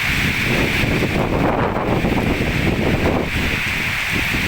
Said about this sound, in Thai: อันนี้ก็เสียงฝนเสียงลมเด้อค่ะ